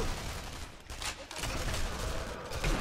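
Sniper rifle fire in Sniper Elite V2, a few sharp broadband cracks spread across a few seconds over dense ambient game noise, fairly loud and close.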